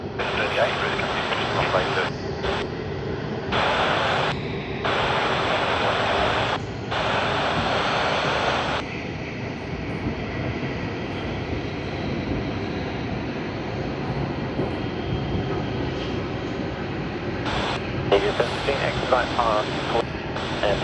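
Garuda Indonesia airliner at Sydney Airport, a sustained engine rumble throughout, with talk and radio chatter breaking in over it in bursts.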